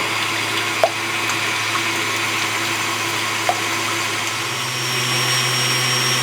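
An electric mixer beats four egg whites toward stiff peaks, a steady droning whir that runs unbroken throughout, with a couple of faint clicks.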